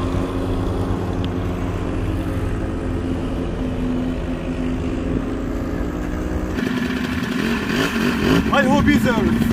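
Four-wheeler quad bike engines running steadily while riding in the Kuwait desert, a loud continuous drone that shifts in pitch as the throttle changes, with voices faintly under it.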